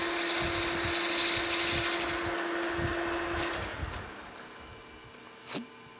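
A metal lathe faces the front of an Oilite bronze bushing chucked in place, a steady whirring hum with cutting noise that winds down after a few seconds, followed by a brief clunk.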